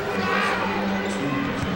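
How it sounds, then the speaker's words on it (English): Arena crowd at a 2013 men's college basketball game, UVU against CSU, reacting to a long bank-shot jumper: a dense, steady roar of many voices with no clear break, loud and close throughout. "you hear the crowd and reaction there"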